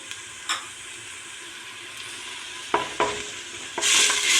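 Homemade pepper paste and tomato paste stirred with onions in a frying pan, steady sizzling with a few clinking scrapes of the spoon against the pan and a louder hiss rising toward the end.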